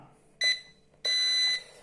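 Two electronic beeps from the controls of an EC145 helicopter in mode 1, a short one followed by a longer sustained tone, clear and close against a quiet background.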